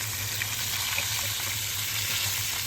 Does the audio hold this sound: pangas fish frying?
yes